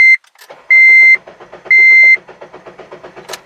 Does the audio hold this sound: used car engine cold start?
yes